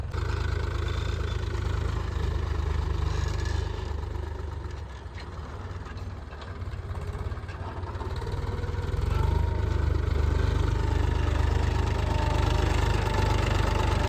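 A tractor engine drones steadily nearby while it ploughs a field. The low chugging dips in loudness midway and then swells back to a fuller rumble, with no talk.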